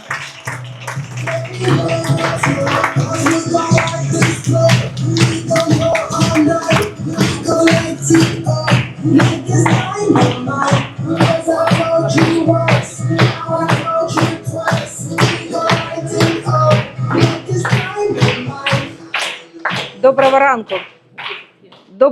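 At a Forever company Success Day gathering, an audience claps in steady unison for a new manager, a long run of evenly spaced loud claps over music and voices that stops near the end.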